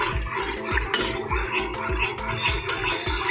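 Yogurt is stirred into spices in a cooking pot with a metal spoon, giving repeated close scraping and clinking strokes against the pot in a steady rhythm, with no voices.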